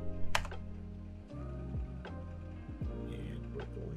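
Computer keyboard typing while saving a file, a few quiet, scattered key taps over a low background hum, with no talking.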